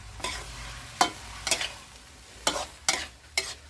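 Eel with basil is stir-fried in a pan for a Thai spicy eel dish, with six short scraping, clattering spatula strokes spaced irregularly over a low sizzle.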